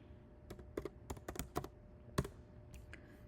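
Quiet keystrokes on a computer keyboard during a list-coding exercise: a handful of separate taps and short bursts, with no talking.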